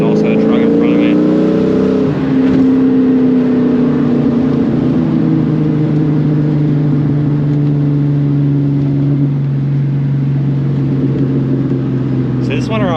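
A Ford Mustang engine revs and drones loudly while driving, its pitch climbing and then holding steady before a shift, with a truck somewhere ahead on the road.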